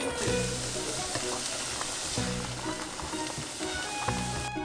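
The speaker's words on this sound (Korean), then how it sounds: "버터를 넣습니다." Butter sizzles steadily in a hot pan while a hamburg steak is being made, a close, continuous frying hiss that holds at an even level for the whole stretch.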